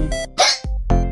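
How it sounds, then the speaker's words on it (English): A voice makes playful hiccup sounds, three short sharp bursts in about a second, close and clear. "I get the hiccups."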